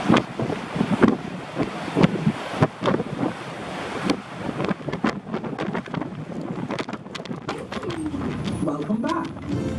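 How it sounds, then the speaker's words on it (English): Strong gusty wind buffets the microphone in heavy rumbling bursts at the top of Blackpool Tower, with a person talking underneath. "it's a bit windy up here"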